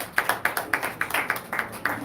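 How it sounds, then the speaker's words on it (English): Audience members at a panel talk on the future of work in Abuja applaud a speaker, with close, bright claps falling in a quick, fairly regular beat that suggests only a few people clapping. "Please, a round of applause for Dr."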